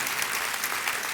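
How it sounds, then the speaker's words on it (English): Applause from an audience at an after-school programming event, steady and dense clapping filling the whole short stretch without a break. "I want everyone to give everyone a round of applause"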